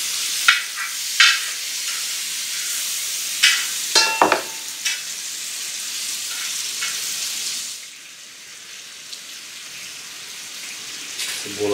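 Onions frying on a plough-disc pan for chicken pasta, a steady hot sizzle with several sharp scrapes and clanks of a utensil against the metal disc, quieter crackling toward the end.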